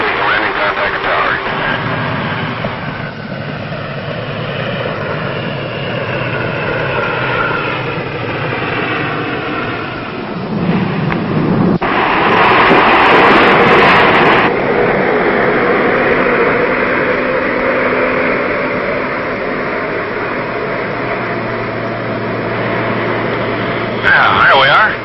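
Aircraft touching down on an Antarctic snow skiway in 1968: a steady droning engine roar throughout, swelling midway, with radio voices talking over it.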